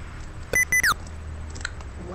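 A Windows sticky keys warning sounds during a Modern Warfare 2 game session: a few short, loud, high electronic beeps, the last sliding downward in pitch, over steady background game noise.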